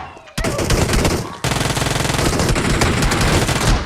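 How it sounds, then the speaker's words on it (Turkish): Rapid bursts of shotgun fire in a video game, loud and dense, with a brief pause before a second sustained volley of repeated blasts. "Anam adam elinde pompalı var."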